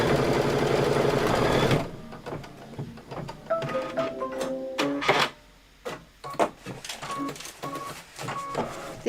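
An embroidery machine stitches a tack-down line on a Sweet Land of Liberty pillow, opening with a dense, steady run of rapid needle strikes, then continuing in loud, clattering bursts separated by short pauses.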